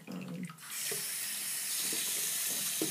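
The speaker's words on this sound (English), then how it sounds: "just rinse it all out in a sink." Water pours steadily from a tap into a bathroom sink while hair and a lace frontal are rinsed, a continuous close hiss with faint splashes under it and no talking.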